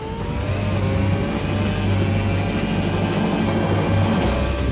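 F1 car engine in a Red Bull Formula One racing simulator on the Valencia street circuit in Spain, a continuous loud high-revving engine drone with steady tonal whine throughout.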